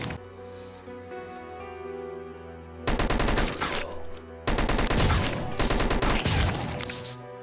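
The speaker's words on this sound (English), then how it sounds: "deploying turret" Rapid turret gunfire in Dead Ahead Zombie Warfare, loud dense bursts of machine-gun fire in two long volleys over a droning game soundtrack.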